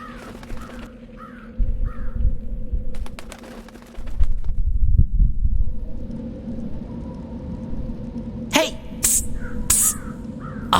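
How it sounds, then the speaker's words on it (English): A crow in Dreamfall: The Longest Journey caws in a few harsh, close calls, set among game ambience with rumbling low tones, a pause of near quiet and a burst of sharp noises near the end. "I'm a bird. Crow's the name."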